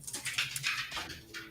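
A dog whimpering indoors, a series of thin, high, wavering whines close by, broken by short pauses.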